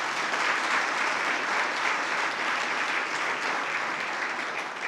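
A church congregation applauding in a steady, dense wash of clapping that holds at an even level throughout, with no voices breaking through.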